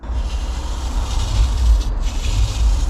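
Wet and dry sanding by hand on the freshly painted bodywork of a VW T5 van, a steady close abrasive rubbing that continues without pause and swells slightly in rhythmic strokes.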